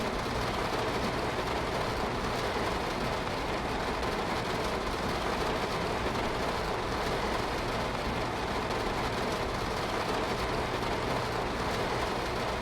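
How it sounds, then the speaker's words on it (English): Heavy rain in the Train Sim World 5 game on a Long Island Rail Road M3 train, a dense steady hiss that stays constant throughout with no talk. "That rain is loud."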